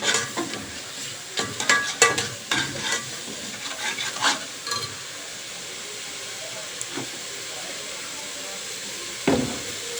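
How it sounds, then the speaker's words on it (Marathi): Turmeric and curry leaves are stirred in a hot frying pan, giving a steady close sizzle and hiss with a cluster of spatula scrapes early on, then frying continues alone. "हळद घालायची, थोडा कढीपत्ता घातल्यानंतर पुन्हा चांगला हलवायचं।"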